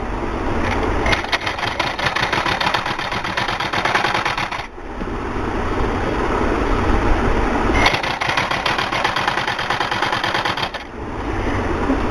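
A sewing machine stitches an elastic-edged cover for an ironing table, running steadily and loudly with short pauses between bursts of stitching and no talk.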